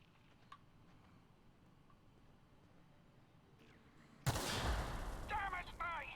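A sudden loud gunshot in the sci-fi game The Outer Worlds bursts out after several seconds of quiet ambience, then rings on with a high whine and lingering noise.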